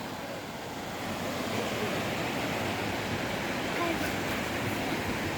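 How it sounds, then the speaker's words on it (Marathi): The flooded Panchaganga river pours over a weir in a steady, loud, broadband rushing roar that never lets up, heard up close with some wind buffeting on the microphone. "2 दिवसापूर्वी पाणी आत होतं, आता बंधाऱ्यावर आले."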